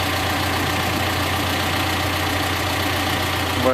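A John Deere 310SK backhoe loader sits idling nearby, its diesel engine giving a loud, steady low rumble with an even throb throughout and no voices.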